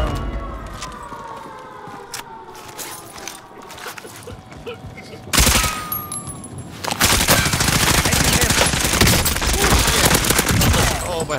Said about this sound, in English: bunch of people shooting down there